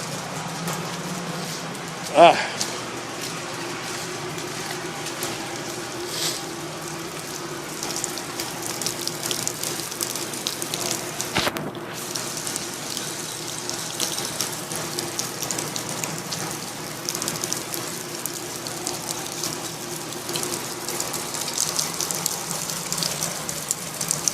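Water runs steadily from a tap to rinse something down, a continuous hiss and splash that lasts throughout with a sharp knock near the start, while a voice speaks intermittently over it.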